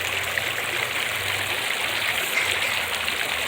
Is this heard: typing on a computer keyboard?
no